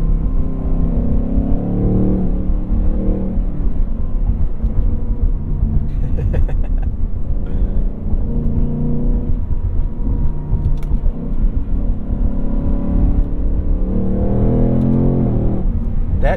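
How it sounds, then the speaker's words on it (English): A loud 2021 Ford Mustang Mach 1 exhaust booms and surges as the automatic car revs up and down, with rising pitch sweeps and a voice speaking briefly over it. "I think I just heard the exhaust get louder."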